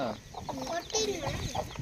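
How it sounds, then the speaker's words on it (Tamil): A chicken clucking close by in a series of short, rapid clucks and squawks, with a voice faintly present in the background. "இதுக்குள்ள ஒரு கோழியா"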